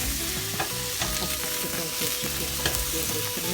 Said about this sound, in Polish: po minucie mieszamy grzybki